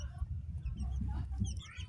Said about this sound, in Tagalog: Yan ang manok mga idol.